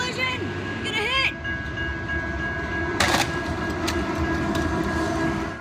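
A train rumbles toward a broken level crossing, a steady loud roar throughout with short warbling tones early on and a sharp burst around the middle, with voices heard over it.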